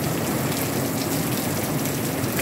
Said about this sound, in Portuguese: Chuvinha boa aqui em São José do Seridó, 5 de novembro de 2023, às 17h55.